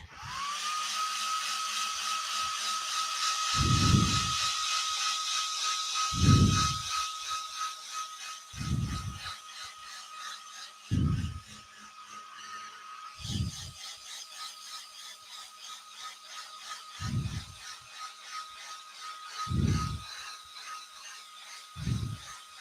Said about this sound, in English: I'll dry that off with the hairdryer